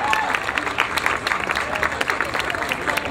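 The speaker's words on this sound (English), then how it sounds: "Round of applause." Crowd at the Light The Night Walk in Philadelphia giving a round of applause, a moderate, crackling spread of clapping with scattered louder claps and faint voices murmuring underneath.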